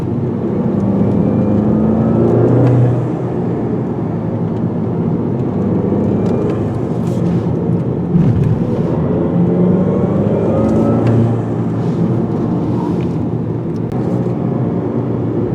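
A 2020 Volkswagen GTI with a turbo engine and six-speed manual gearbox cruises along a road, giving a steady, loud drone of engine and road noise that holds throughout with no one talking.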